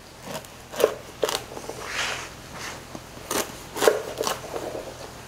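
A flat knife cuts the ends off a rustic bread loaf, giving quiet, crisp crackling crunches in a few separate strokes, soft and close, with no talking.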